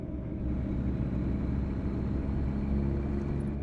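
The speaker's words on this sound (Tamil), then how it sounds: "நல்லா ஒரு வண்டி கொஞ்சம் லைட்டாக வேகமாக தான் போகுது" Truck in American Truck Simulator driving fast, a steady low engine rumble and road drone, loud and continuous with no voices.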